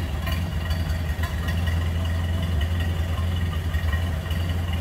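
A 1929 Ford Model A's 201-cubic-inch inline four-cylinder engine idles steadily up close, a smooth, low continuous rumble with a faint mechanical clatter on top and no talking.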